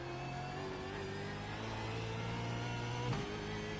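A V8 Supercar engine in a racing video game at Sebring, holding a steady high drone as the throttle stays open, with a sharp shift-like blip near the end before the tone settles again.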